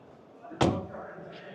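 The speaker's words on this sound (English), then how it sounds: "That single sliding door." The sliding side door of an electric van is pushed shut at a commercial vehicle trade show in Hannover, landing as one sharp, loud slam amid hall chatter.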